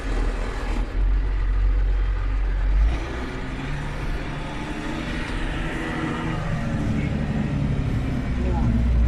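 A tractor strains under load while pulling an SZ-3.6 seeder sowing rapeseed across a field, its engine a steady, loud, low drone that holds throughout with no pauses.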